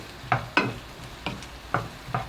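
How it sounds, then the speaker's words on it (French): Bell peppers tipped into a pan of translucent onions, giving a few sharp stirring scrapes and bursts of sizzle spaced out over a couple of seconds, close and moderately loud. "Donc on va verser les poivrons."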